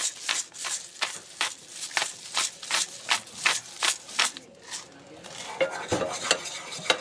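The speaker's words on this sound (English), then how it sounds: "Stir that around a bit." A spoon stirs black-eyed peas with fresh cracked black pepper in a pot, scraping in a steady rhythm of about a dozen close, distinct strokes, then looser clattering toward the end.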